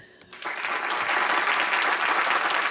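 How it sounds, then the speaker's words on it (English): After a brief moment of talk, applause erupts and holds steady, a dense, even wash of clapping from an audience at a Man United versus Everton match review. "Let's applaud our boys for that."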